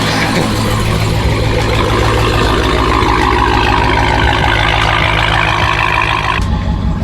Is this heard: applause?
no